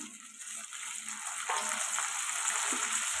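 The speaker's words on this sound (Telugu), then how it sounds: "ఇప్పుడు ముందుగా కట్ చేసి పెట్టుకున్న ములక్కాడ అయితే వేసేద్దాం." Drumstick pieces are added to onions already frying in hot oil, giving a steady close sizzle that swells louder partway through and keeps hissing evenly, with no talking.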